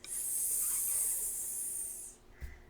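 A voice imitates a skunk's spray with a long, steady, breathy hiss lasting about two seconds, then cuts off, followed by a soft thump.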